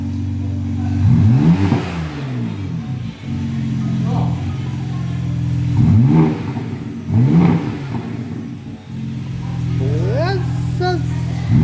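A brand-new BMW M3 G80 with its exhaust valves open revs repeatedly in bursts over a steady idle, loud and close, with people talking between the throttle blips.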